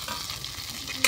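Mrigal fish, a large carp, frying in hot oil, giving a steady soft crackling sizzle over about a second with a brief louder clatter at the very end.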